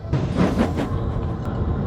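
A toy steam engine train puffs away, a brief burst of chuffing rumble and hiss that starts abruptly and holds steady for a couple of seconds, close and fairly loud.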